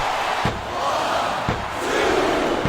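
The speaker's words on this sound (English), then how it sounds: "This capacity crowd is making their opinions known tonight." A wrestling arena crowd in the game SmackDown vs Raw 2007 keeps up a loud, continuous roar of shouting that swells and dips, with a few faint thuds cutting through.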